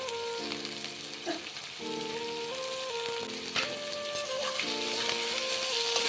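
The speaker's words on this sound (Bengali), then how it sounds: "গাজর আর বরবটি খুব ভালোভাবে ভেজে নেব" Steady, even sizzling of carrots and long beans frying together in hot oil, a close continuous crackle that holds at a constant level over light background music.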